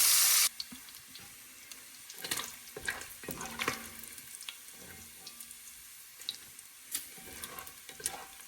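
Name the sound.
food frying and browning in bacon fat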